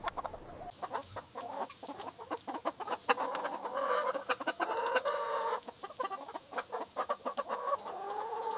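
Bresse chickens cluck and chatter steadily close by on a farm in France, with short choppy calls bunching together and one longer drawn-out squawk in the middle.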